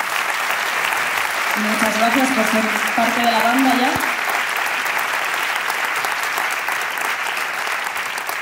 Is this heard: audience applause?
yes